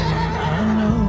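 A horse neighs loudly and close in a film trailer, a single sustained whinny with wavering pitch over a low background hum.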